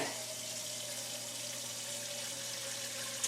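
Tap water runs steadily into a pot for boiling tangelo marmalade peels, a continuous close rushing splash with a faint ringing tone from the filling vessel.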